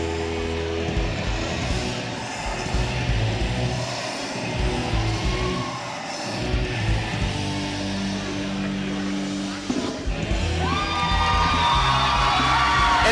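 A wrestling crowd at a Super Shogun Wrestling show cheers and whoops steadily as the Wrestle Cat comes through the curtain, a dense, loud roar of voices with yells rising over it and a brighter swell near the end.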